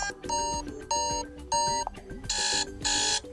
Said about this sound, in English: So let's tap on default alarm ringtone.